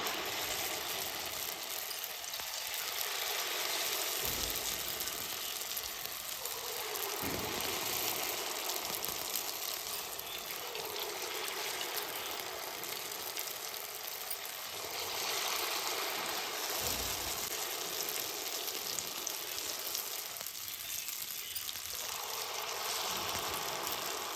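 Maida-coated balls deep-fry in a pan of oil, giving a continuous, fairly soft frothy hiss and bubbling that holds steady for a long stretch without speech.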